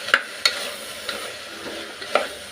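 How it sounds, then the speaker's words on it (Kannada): Soaked, salted eggplant pieces frying in a pan with field beans for a sambar, with a steady sizzle broken by a few sharp scraping stirs of a spoon close by. "ಈ ಥರ ಫ್ರೈ ಮಾಡ್ಕೊಳ್ಳೋಣ."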